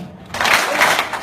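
An audience at a poetry reading bursts into a short round of clapping and cheering, loud and close, lasting about a second.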